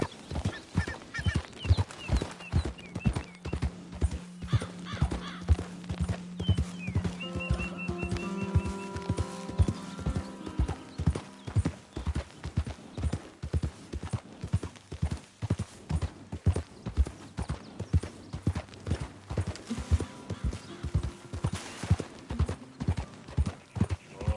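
Horse hooves clip-clop steadily and fairly close in the Red Dead Redemption 2 western game world, a continuous rhythmic trotting beat with an occasional whinny and a sustained tonal hum or music in the background.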